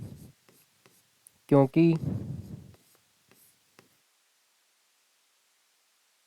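Pen scratching on paper during a Class 10 maths lesson, faint and intermittent, with a teacher briefly speaking partway through.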